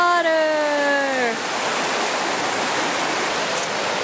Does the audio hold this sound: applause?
no